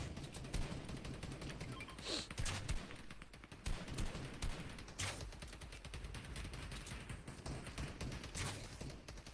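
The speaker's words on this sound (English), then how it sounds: "Does look like there's a lot of gunfire coming in" Rapid Fortnite gunfire, bursts of shots and scattered single cracks crackling steadily, with no one speaking.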